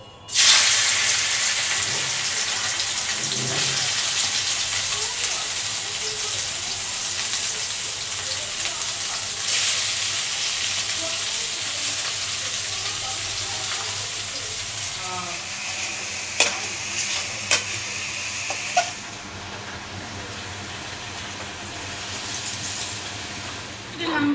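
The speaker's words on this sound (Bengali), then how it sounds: "এই যে তেলটা দিচ্ছি সাদা তেলটা হুম চিকেনটা একটু কষিয়ে নেবো" Chicken fries in white oil with a loud, steady, close sizzle that hisses continuously throughout, broken near the end by a few sharp clinks of a utensil against the pan.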